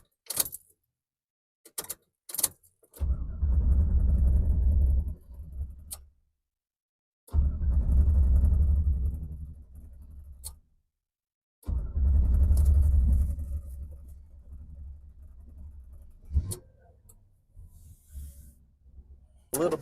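A 1995 Impala SS engine with a fuel pump problem cranks and starts several times, each run a loud, close, low rumble lasting a few seconds before cutting out, with key and door clicks in the gaps.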